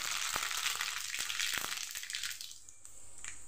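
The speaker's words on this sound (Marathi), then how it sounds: "आता ह्यामध्ये मोहरी टाकून घेऊया." Mustard seeds crackle and spit in hot oil in a kadhai, a dense continuous sizzle with sharp popping ticks scattered through it, easing off toward the end.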